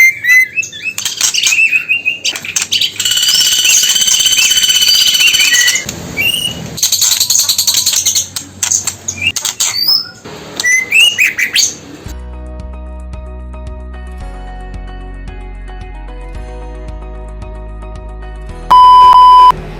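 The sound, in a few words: male trotol bird calling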